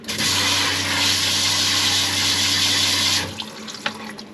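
Tap water pours steadily and loudly into a small sink in a camper van for about three seconds, then shuts off, leaving light drips and clinks of dishes.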